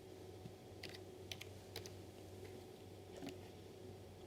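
Faint, sparse keyboard clicks from typing a short word on a computer keyboard, a few keystrokes scattered over a steady low room hum.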